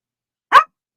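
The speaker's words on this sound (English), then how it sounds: "What do you want, little dog?" A single sharp bark from a small dog, close and fairly loud, short and isolated against silence.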